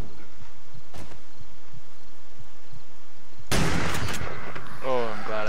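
Shotgun blasts in 7 Days to Die come as a faint early crack followed by a loud, close burst near the end, which rings out with clattering echoes. No one speaks.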